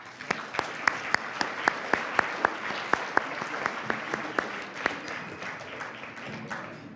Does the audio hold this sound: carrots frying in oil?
no